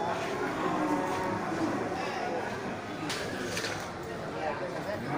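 Aceh cattle low and moo repeatedly at a busy cattle market, close and distinct, over a steady crowd murmur with voices talking in the background.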